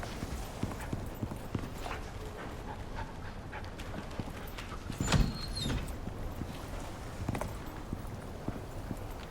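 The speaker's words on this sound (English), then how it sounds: "No, that's a horse." Horse hooves clip-clop at a buffalo breeding farm, a loose rhythm of close, distinct hoof strikes over a rustling outdoor background, with one sharper clatter midway.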